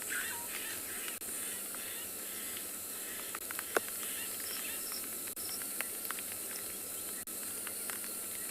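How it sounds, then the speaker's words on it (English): Night chorus of crickets, cicadas, starlings and frogs on the Tswalu reserve, a steady dense insect hiss with scattered chirps and calls, moderately faint and continuous. "Wonderful sounds. Starlings, crickets, cicadas, frogs."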